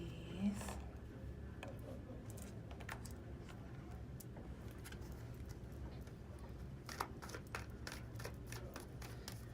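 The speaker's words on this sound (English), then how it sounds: "Shuffle this deck really quick for you" A tarot card deck is shuffled up close, with soft papery riffles and sharp clicking card snaps scattered irregularly over quiet room noise.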